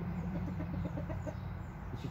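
Chickens clucking nearby in a series of soft, rapid, repeated clucks over a low steady background hum, fairly quiet and without any talking.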